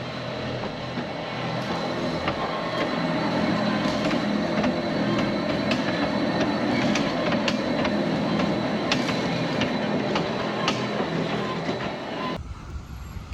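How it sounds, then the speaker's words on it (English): A train rumbles past at close range in Rio de Janeiro, wheels clattering over the rails with occasional squeals, steady and loud before cutting off abruptly. "This is the train."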